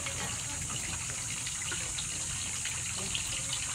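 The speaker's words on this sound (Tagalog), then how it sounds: "Oh, awas-awas ang tubig." Tap water gushes and overflows into a basin during bathing, a loud, constant rushing splash filling the whole stretch with a few faint knocks.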